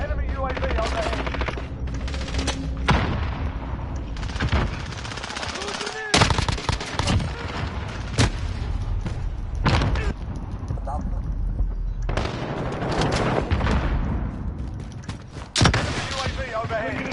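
Rapid gunfire in a first-person shooter game: loud bursts of automatic fire and sharp single shots crackling in irregular clusters, punctuated by a few heavier blasts, with game voice callouts over the shooting.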